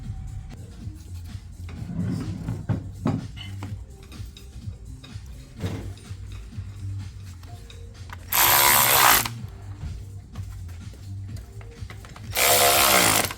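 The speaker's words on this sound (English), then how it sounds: "I'm going to tie them first with the electrical ratchet, and then I'm gonna finish it by hand" An electric ratchet runs in two loud bursts while tightening the transmission pan bolts on a Mercedes GLC300 X253 with a 9G-Tronic gearbox. Quieter clicks and tool handling fill the gaps between the bursts.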